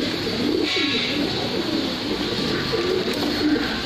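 Teddy and Ferozpuri pigeons coo steadily in overlapping low phrases against a constant hissing background, nearby and moderately loud, with no speech.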